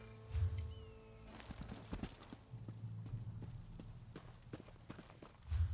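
Horse hooves clip-clop at a walking pace in The Elder Scrolls Online, a steady run of close, distinct steps between brief louder bursts, with no voices.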